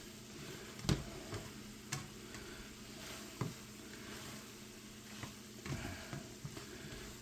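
Shrimp stir-fry in a pan with a soft, quiet sizzle, broken by a few sharp knocks and scrapes as the shrimp are tossed.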